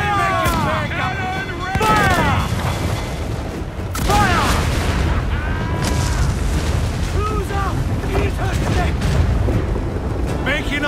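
Ship cannons fire broadsides in Assassin's Creed Black Flag, with heavy booming blasts rolling under shouted crew commands, set in a dense, loud battle din that never lets up.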